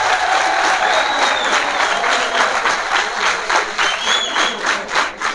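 Dense, continuous audience applause fills a university hall during a poetry recital, a steady roar of many clapping hands that swells and dips slightly throughout.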